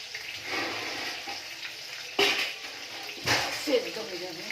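Whole okra fried in a pan gets covered with a lid, producing two sharp clanks over a soft, steady sizzle of oil.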